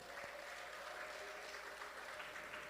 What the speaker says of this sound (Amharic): እስኪ እልልታና ጭብጨባ ለጌታ ክብር አምጡ።